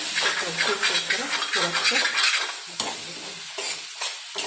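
Amaranth greens saag frying in mustard oil in a pan, giving a steady loud sizzle with stirring scrapes throughout, while a voice talks over it.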